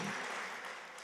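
A church congregation applauds together at a Sunday worship service to welcome a returning visitor: a short, dense burst of clapping that fills the room and fades slightly toward the end.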